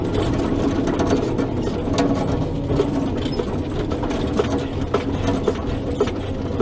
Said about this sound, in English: Pushing the tractor around.